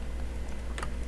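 Computer keyboard typing while working in Excel 365, a brief run of soft, close key clicks with one sharper cluster of taps near the end.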